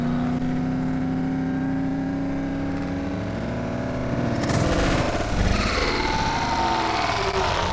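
Car driven in the zombie game Dead Island, a steady engine drone with a whirring tone that swells louder and rougher midway, as if accelerating, with no talk.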